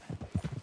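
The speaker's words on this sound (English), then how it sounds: "How's that horse treating you?" Horse hooves clip-clop at a steady walking rhythm in the video game Red Dead Redemption 2, about seven close, fairly quiet hoofbeats with no talking.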